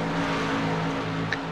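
A race car comes off turn four and crosses the line on an oval track, a steady, loud engine drone held at one pitch and heard at a distance, with no voices.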